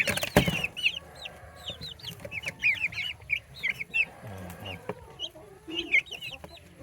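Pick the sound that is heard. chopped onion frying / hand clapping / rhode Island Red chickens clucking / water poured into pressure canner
rhode Island Red chickens clucking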